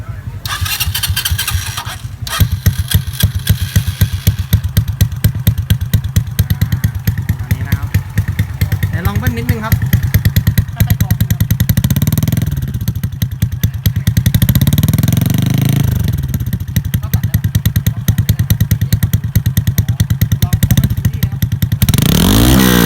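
A GPX Demon 125 motorcycle with a loud, throaty aftermarket two-inch exhaust starts and idles, then revs hard several times in sharp bursts. People talk over the engine.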